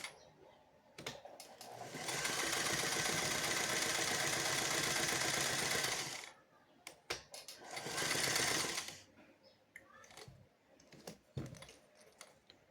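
A serviced sewing machine runs at a steady fast stitch for about four seconds, stops, then runs again in a shorter burst, loud and close, with small handling clicks between runs.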